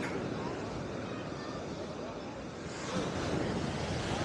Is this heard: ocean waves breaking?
yes